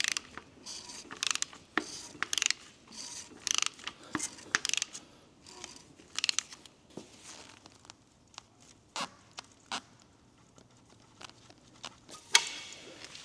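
A ratchet clicks in quick, uneven runs while turning a BMW X5 engine over by hand during timing chain work, the close pawl clatter broken by short pauses and light metallic taps.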